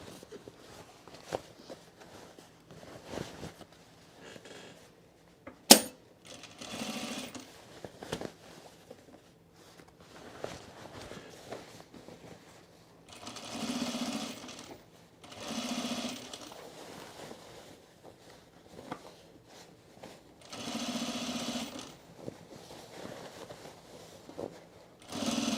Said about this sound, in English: I can't see where I'm sewing